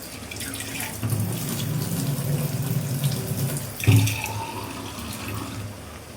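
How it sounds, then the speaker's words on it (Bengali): Water splashes steadily into a pot of cooking vegetables nearby, a continuous pouring flow with a brief louder gush near the end. "সবজি পানি শুকিয়ে আসছে, পানি দিতে হবে।"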